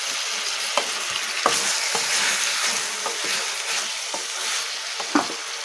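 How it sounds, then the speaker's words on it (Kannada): Chicken with salt frying in an open pan for capsicum chicken fry, a continuous close sizzle with spatula taps and scrapes landing roughly every second, no talk. "ಅಲ್ಲಿವರೆಗೂ ಇದನ್ನು ಹೀಗೆ ಫ್ರೈ ಮಾಡ್ಕೊಳ್ತೀನಿ"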